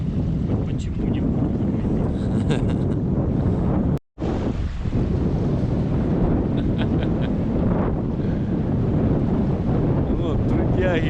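Fierce wind blasts across a riverbank fishing spot by the shore as waves roll in at high tide. It makes a loud, constant buffeting roar that drops out for a moment partway through and then resumes.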